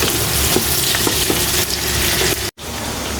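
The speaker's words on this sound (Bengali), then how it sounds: "এদিকে মাংসের জন্য যে পেঁয়াজ মরিচ ভাজিয়ে নিতেছি, তার সাথে তেজপাতা, তারপরে হচ্ছে লবঙ্গ, এলাচ, এগুলো দিয়েই ভাজতেছি" Onions and chillies fry loudly in hot oil with bay leaf, cloves and cardamom, a dense close sizzle with faint stirring taps that cuts out abruptly for an instant before resuming.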